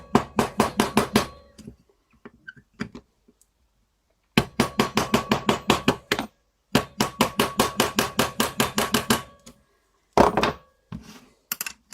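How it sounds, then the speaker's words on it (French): Rapid bursts of light hammer taps on a small screwdriver while dismantling a Peugeot 103 moped variator, several quick runs of clinking strikes separated by short pauses. "à l'aide d'un petit tournevis, on va venir l'extraire avec son marteau"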